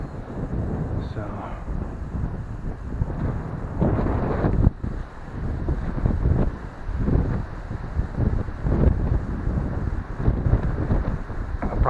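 Wind gusting outdoors near a beaver dam in cold, snowy wetlands, a loud, broadband buffeting roar against the microphone that swells and dips in gusts throughout.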